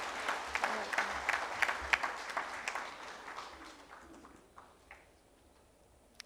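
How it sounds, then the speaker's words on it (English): Applause from a conference audience, a dense burst of clapping that starts strong and gradually thins out and fades, leaving a few scattered claps near the end. "Can we please have a huge round of applause for Ms."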